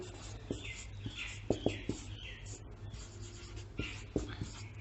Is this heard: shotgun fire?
no